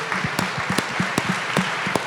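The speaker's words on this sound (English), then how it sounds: "Please give them a round of applause." An audience at a sustainable food technology event gives a burst of applause, dense, even clapping from many hands that fills the short stretch at moderate loudness.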